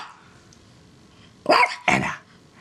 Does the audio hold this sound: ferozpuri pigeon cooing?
no